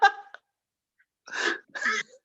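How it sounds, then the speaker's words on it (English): A sneeze bursts out sharply at the start, followed by a short catch of breath, then a pause before people speak briefly afterward. "She sneezed on an old person."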